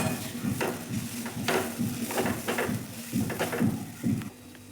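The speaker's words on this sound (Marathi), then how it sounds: "सर्व व्यवस्थित मिक्स करून घेऊ." Spiced masala mixed with a spoonful of gram flour is stirred in a pan, a close, rhythmic series of scraping strokes and light metal clinks over a faint sizzle, repeated steadily and then stopping.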